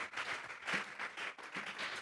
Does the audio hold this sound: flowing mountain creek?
no